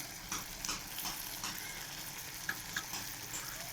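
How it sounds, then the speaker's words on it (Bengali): A sauce, added with a little sugar, sizzles and fries steadily in a pan as it is stirred, with scraping strokes and small clicks of the spoon over a constant close hiss. "এরপর আমি নেড়ে চেড়ে একটু ধনেপাতা ছিটিয়ে দেওয়া হলো"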